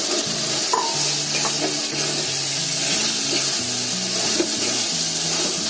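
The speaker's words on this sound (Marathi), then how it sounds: "आता याच्यामध्ये आहे ना ही तळलेली बटाटे टाकते" Fried potatoes being stirred in hot oil in a pan for potato rice, a steady close sizzle with scraping stir strokes running throughout, no talking.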